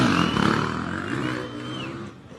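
A KTM off-road racing motorcycle revs at the start line of the Baja 1000 desert race, a harsh, loud engine roar with rising and falling pitch, close by and steady through the moment.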